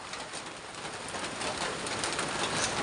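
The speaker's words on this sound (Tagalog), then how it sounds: "Sobrang lakas ng ulan." Heavy rain pours down in a dense, constant hiss, loud and close, with no letup or other sounds breaking through.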